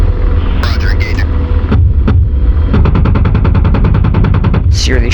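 Rapid burst of cannon fire from an AH-64D Apache helicopter gun aimed at a T-55 tank in the DCS World game, a loud evenly spaced string of shots over constant rotor and engine roar, with a few earlier single shots and radio-style voices.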